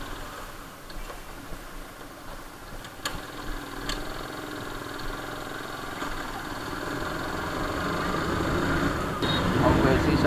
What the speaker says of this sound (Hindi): हमको ऐसे ही चलानी पड़ेगी बाइक आज